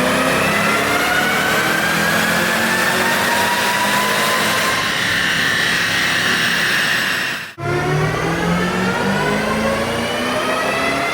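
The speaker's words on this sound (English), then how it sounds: "We'll rev it out a little further and see if it grows." A 210,000-mile Shelby GT500 engine revs hard toward the rev limit, its loud pitch climbing steadily before a sudden brief drop at a shift, then rising again under full throttle.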